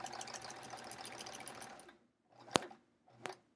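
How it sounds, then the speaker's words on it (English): A sewing machine quilting runs steadily in a fast, even stitching rhythm for about two seconds, then stops. Two brief sharp clicks follow in the quiet. "I can be quilting on this machine here"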